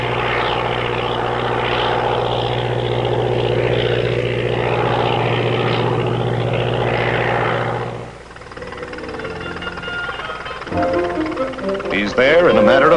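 A small propeller airplane, a 1952 farmer's plane, flies out from a private field over maritime countryside. Its engine drones loud and steady with a strong low hum, then thins out and gives way to mixed background sounds.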